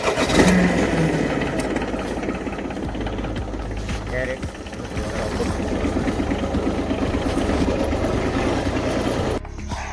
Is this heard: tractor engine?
yes